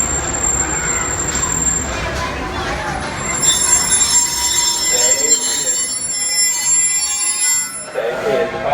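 A Walt Disney World Railroad train rolls and slows to a stop at a station, rumbling wheels and a high metallic squeal of brakes, continuous and fairly loud throughout.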